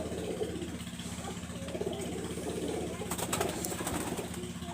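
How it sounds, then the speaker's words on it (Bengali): A golden pigeon gives soft, low, repeated coos over a steady mechanical hum resembling an idling engine, with a brief rustle near the end. "এখানে একজন গোল্ডেন কবুতর আমি দেখাচ্ছি, দেখেন রেড আই চোখের ভিতরে খুবই মার্শাল্লাহ কোয়ালিটির একজন গোল্ডেন কবুতর"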